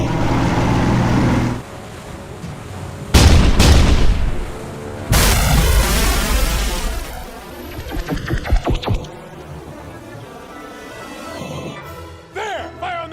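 A warship's forward 5-inch deck guns fire in heavy booming blasts, several loud reports with rumbling tails, followed by crackling, clattering action effects as the barrage continues.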